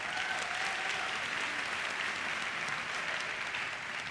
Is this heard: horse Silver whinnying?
no